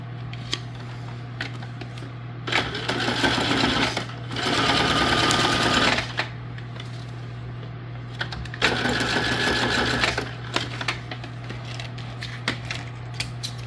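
A sewing machine stitches paper junk journal tags in two loud bursts of rapid mechanical whirring, each lasting a couple of seconds, separated by quieter pauses over a steady low hum.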